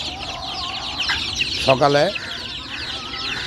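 Farm chickens clucking and calling in the morning, with one louder squawking call standing out among steady background clucks, close by, while someone talks over them.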